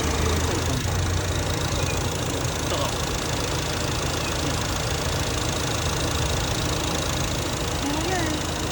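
A car engine runs loud and steady with a kitten trapped inside it. People talk over the constant rumble.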